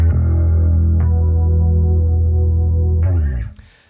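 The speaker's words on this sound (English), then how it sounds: "So this is essentially a chorus." Bass guitar run through a dual pitch block set 10 cents up and 10 cents down for a chorus-like shimmer, one sustained note ringing loud and steady before a shifted attack near the end and a quick fade.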